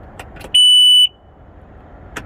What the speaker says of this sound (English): I'll turn it to the left just to hear a beep. That lets me know everything is running well in the system.